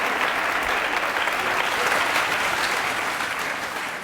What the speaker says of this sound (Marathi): टाळ्या वाजवा माझ्यासाठी यार